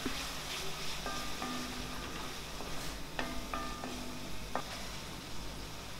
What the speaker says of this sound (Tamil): அதை சேர்த்துட்டு நல்லா எண்ணெய் தெளிஞ்சு வர்றது வரைக்கும் பச்சை வாசம் போகிறது வரைக்கும் வதக்கிக்கலாம்